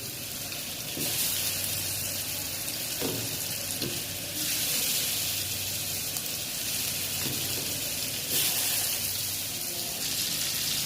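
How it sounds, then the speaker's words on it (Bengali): Fish fries in a pan with a steady, fairly quiet hiss of hot oil, swelling in louder bursts at intervals, with occasional soft knocks; no talking. "আমি এখন মাছ ফ্রাই করব"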